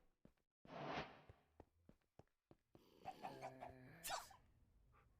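A woman gives one loud, breathy sneeze early on, surrounded by scattered clicks and taps, followed by a few seconds of soft talking and faint knocks.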